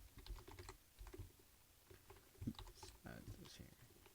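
Quick, irregular clicks of a computer keyboard sound close up while someone types Java code for a programming contest problem, with the keystrokes coming in short bursts.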